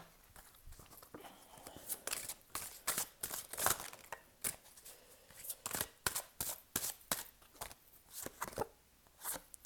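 Tarot surrender cards being shuffled by hand, a soft, close run of quick riffling and slapping bursts repeating at an uneven rhythm, with no talking.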